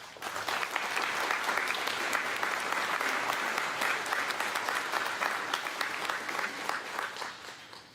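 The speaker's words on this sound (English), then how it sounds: "Please give them a round of applause." Audience applause at a volunteer fire station dedication ceremony, dense sustained clapping from a sizable crowd that swells in and holds steady for several seconds before easing off.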